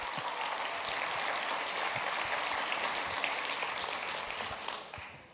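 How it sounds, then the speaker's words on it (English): Sustained, dense applause from a church congregation fills the room for several seconds, a steady crackling wash of many hands clapping at once that tapers slightly near the end. "Give him a round of applause."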